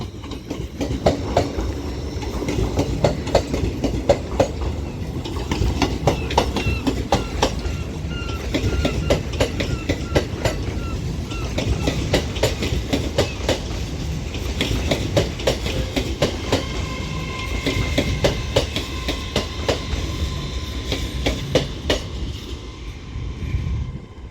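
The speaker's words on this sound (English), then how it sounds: "This is from the 14:25 Avanti West Coast service to Liverpool Lime Street from London Euston with a class 807." Avanti West Coast class 807 unit 807 002 pulls into platform 11 at Crewe on the West Coast Main Line, a steady rumble with rhythmic clickety-clack of wheels over rail joints and faint metallic clinks throughout, close and continuous.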